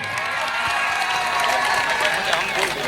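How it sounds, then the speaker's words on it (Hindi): Steady applause from the audience at a tilak ceremony, a dense wash of clapping with crowd voices blended in, loud and continuous throughout. "एक जोरदार ताली आप सबको जरूर बजाना चाहिए"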